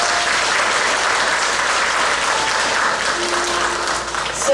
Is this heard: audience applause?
yes